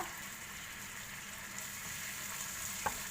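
Coconut cream sizzling as it is stir-fried in a pan, a quiet, steady hiss with a faint clink from a utensil near the end, no talk.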